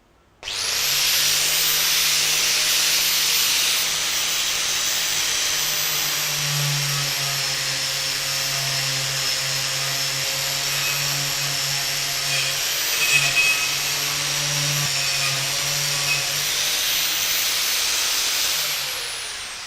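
Bosch GWS 800 4-inch angle grinder running a wire cup brush to de-rust metal, a loud steady high whine with a constant hiss of bristles scraping, spinning up at the start and running continuously alone without talk.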